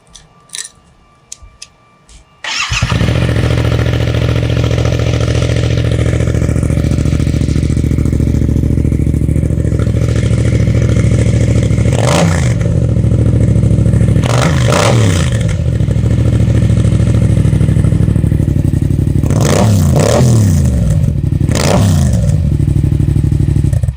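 A Yamaha XSR700 fitted with a Two Brothers SR1 black racing exhaust starts up and idles with a loud, steady rumble close by. Several sharp throttle blips rise and fall near the end.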